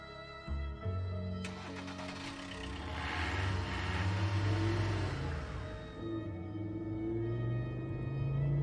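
Car in the video game Path to Nowhere starting up and driving off, engine revving and climbing in pitch with a rush of noise, loud and close, no talk.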